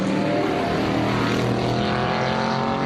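Race cars in a Group 10 race at Sebring Raceway produce a steady, loud engine drone with a constant pitch, close and unbroken for the whole moment.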